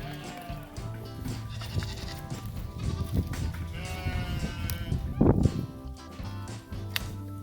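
Goats bleat repeatedly among other farm animal noises, including Kune Kune pigs being rounded up, with one loud close bleat standing out over a shuffling, rustling background.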